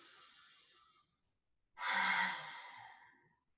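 Deep breathing in a guided breathing exercise: a long, soft exhale fades out, then after a short pause a louder, fuller breath rises and trails off, close and alone.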